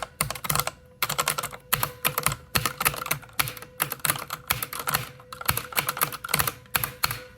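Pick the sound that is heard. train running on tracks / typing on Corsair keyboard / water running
typing on Corsair keyboard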